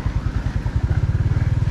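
Motorcycle engine idling and revving at close range, with a steady low throbbing pulse that quickens toward the end; no talking over it.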